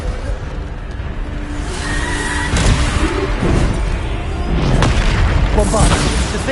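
A Bombard spell in Hogwarts Legacy goes off with deep booming blasts and whooshing rumbles over a continuous loud low background, with a couple of sharper bursts mid-way and toward the end.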